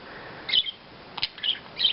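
Pet budgies chirp in short bright bursts, about four quick calls spread across two seconds over a quiet background while they eat fresh broccoli and spinach.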